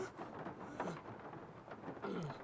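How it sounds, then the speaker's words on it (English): Quiet rain ambience with low rumbling thunder from a Nancy Drew mystery game set during Mardi Gras, a soft steady wash broken by a couple of faint swelling rumbles. "I love the rain sounds in this game."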